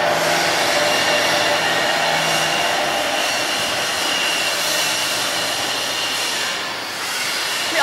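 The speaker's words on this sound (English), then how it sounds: "6+1 bow tie extrusion machine" A 6+1 bow tie cable extrusion machine runs in a wire and cable plant with a loud, steady broadband whir and hiss that holds for the whole stretch, with no talk.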